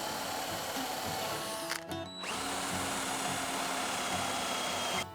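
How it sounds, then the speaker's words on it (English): A power drill bores dowel holes into a wooden chair frame for a modern Danish chair, whining steadily at close range, with a brief pause and a pitch change near the two-second mark before running on. "Drill the dowel holes in the chair frame."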